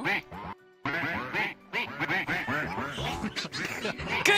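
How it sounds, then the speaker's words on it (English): Duck quacking in a video game, a rapid run of loud nasal quacks repeated in quick bursts with one brief pause, close and dominant, no talking. "So proud that you learned how to speak duck."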